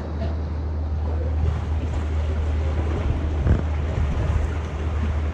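Strong wind on an island on a gusty day, with a steady low roar and rumble buffeting the microphone, fairly loud and continuous with no talk.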